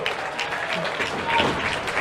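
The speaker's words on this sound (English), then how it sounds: "the crowd appreciating all of this" A wrestling crowd in a small venue claps and cheers after a back suplex, a steady wash of applause with a commentator talking over it.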